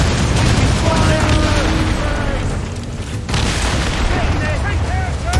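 Ship cannons firing in Assassin's Creed Rogue, heavy booms and bursts rolling over one another amid battle clamor, with crew shouting throughout and a brief dip midway before the barrage resumes.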